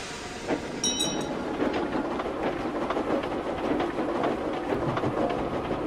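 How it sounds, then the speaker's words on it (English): A steam train starting to move rumbles and rattles along steadily, with a brief metallic squeal near the start and continuous mechanical noise throughout. "He jerked forward yet again to get the train moving."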